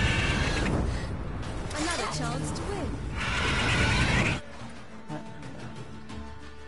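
A horse in The Witcher 3: Wild Hunt video game gives a loud, close whinny that rises and wavers, set against dense game sound effects before the sound drops to quieter background.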